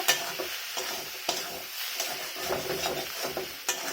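A spatula stirs a sizzling Bhola fish chop filling with salt and chopped coriander in a hot pan, with continuous close frying hiss and repeated scraping strokes against the metal.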